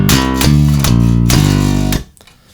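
Finger-played bass guitar heard as a clean DI signal with effects switched off, for a modern prog piece: a few sustained low notes with bright string attacks, loud and close, stopping abruptly near the end.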